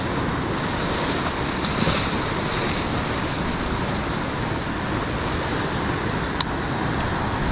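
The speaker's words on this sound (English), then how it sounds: "Some big waves stirring it up." Big ocean waves break and churn near a fishing spot, a constant loud wash of surf mixed with wind buffeting the microphone, with no pauses.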